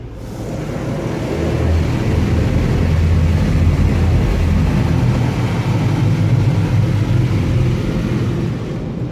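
Touchless automatic car wash running in a wash bay with a car inside, a loud, steady low roar of pumps and high-pressure spray swelling slightly and holding for several seconds, no voices.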